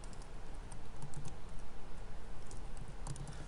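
Fast keystrokes on a computer keyboard, quiet and close, a steady run of clicking taps with no voices.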